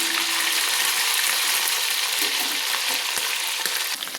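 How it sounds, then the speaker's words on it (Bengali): Ginger paste frying in oil in a pan: a loud, steady hissing sizzle with crackling pops throughout, close by and unbroken, with faint stirring scrapes near the end. "আদাটা আমি দিয়ে আদাটা ভেজে নিচ্ছি তেলের সঙ্গে"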